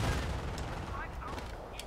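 In Company of Heroes, a Calliope rocket artillery barrage fires at a Flak 88: a loud, dense, continuous roar of blasts and whooshing rockets.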